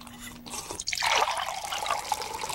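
White cranberry juice from an Ocean Spray bottle spills and splashes, a short liquid gush rising after a brief pause and then trickling and dripping, close and fairly loud.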